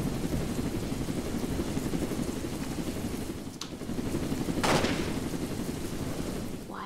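Gunfire crackles in a Roblox video game over a constant roaring, rattling din, with a couple of sharper cracks standing out partway through.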